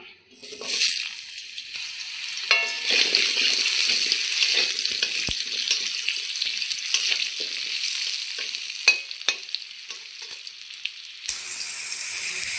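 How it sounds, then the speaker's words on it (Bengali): Potatoes fry in oil in a home kitchen pan after fish, a steady loud crackling sizzle that runs unbroken for most of the stretch with scattered pops, then briefly drops near the end. "তো এখন আমি আলুগুলো ভেজে নেব।"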